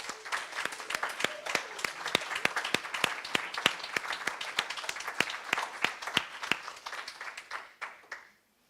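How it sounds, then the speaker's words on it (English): A gathering of a secular Sunday community claps for its volunteers. The applause is light and fairly sparse, a few sharp distinct claps over softer clapping, and it continues for about eight seconds before stopping abruptly. "So why don't we send a big applause to all volunteers."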